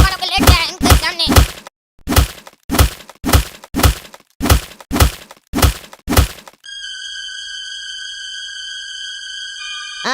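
Loud punches and blows land on someone in rapid bursts of heavy thuds and whacks, three in quick succession and then a steady run of single hits, before a sustained electronic tone takes over.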